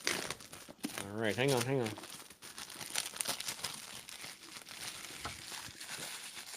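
Plastic wrapping on a packaged item is crinkled and torn open in rustling, crackling bursts that run through most of the stretch, with people talking briefly over it.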